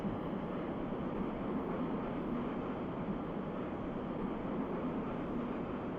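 Metro train in the Metro Simulator 2 video game rolling along at speed, a continuous, even rumble and hiss without breaks.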